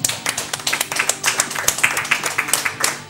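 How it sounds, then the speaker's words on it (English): An audience at an F-Zero X gaming event claps, a brisk patter of many hands, steady and fairly close, with faint voices underneath. "Applause for the fraud, Patrick Wessels."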